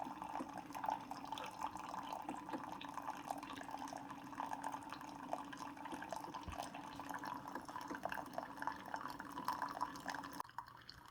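A Keurig K-Supreme Plus coffee maker pours a steady, even stream of hot water from its spout, a continuous trickling fill lasting several seconds at close range and moderate volume, then stopping abruptly.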